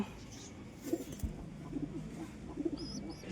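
Soft pigeon coos, a few short throaty calls close by in a quiet setting, from white teddy pigeons.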